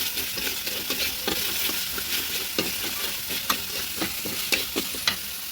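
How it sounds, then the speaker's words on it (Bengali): Steady sizzling of spices frying in hot oil for fish-head khichuri, with a few scraping stirs of a utensil against the pan, close and continuous. "মশলাটাকে আমি ভেজে নেব।"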